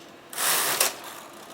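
A double-bed knitting machine with both carriages at tightest tension knits a zigzag racked rib row, giving one brief mechanical ratcheting slide, close and alone.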